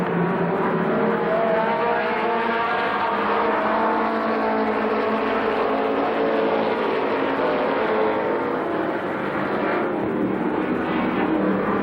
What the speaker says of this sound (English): They pick up the throttle through turns 3 and 4, and the green flag flies